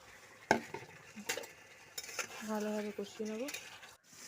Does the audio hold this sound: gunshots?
no